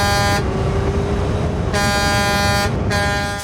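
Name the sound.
truck horn honking in a film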